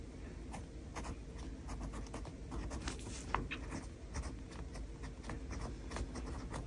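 Lamy Safari fountain pen scratching steadily across paper in short repeated strokes, faint and close, over a soft continuous background hiss.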